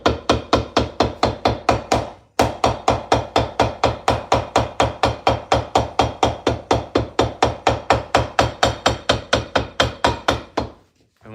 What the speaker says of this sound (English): hammer the welt down